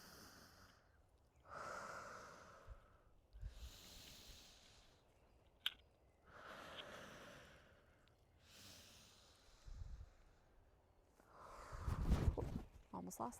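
Deep breathing during a sinus and head pressure relief exercise done while squatting and twisting: several slow, audible inhale and exhale cycles with soft snort-like bursts, close and fairly quiet, with occasional voice.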